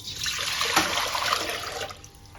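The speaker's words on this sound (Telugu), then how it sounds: "వాటర్ పోసుకోవాలి" Water pours steadily into a pot of mushroom biryani for a couple of seconds, a continuous splashing rush that tapers off near the end.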